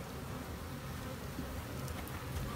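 Honeybees buzz steadily around an opened beehive full of brood, nectar and pollen, a dense, even drone that holds close and constant with no talk over it.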